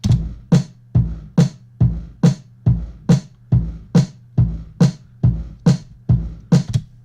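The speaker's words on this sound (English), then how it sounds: "there's a kick, snare, kick, snare." A programmed beat alternates a punchy kick and a sharp snare in a steady, even rhythm, repeating about fourteen hits with nothing else playing.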